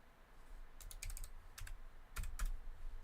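Quick clusters of close keystrokes on a computer keyboard, several short bursts of rapid clicking over faint background noise with no talking.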